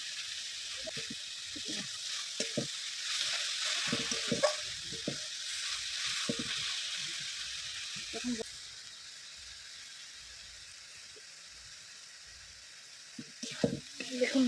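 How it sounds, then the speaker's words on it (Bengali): Coconut filling fries in a pan and is stirred throughout, giving a steady sizzle over scattered scraping knocks from the spoon. A voice speaks now and then, and the sizzle fades toward the end. "নারকলের তৈরি হয়ে গেছে এবার পাঁচ মিনিট ধরে নেড়ে চেড়ে নিয়েছি"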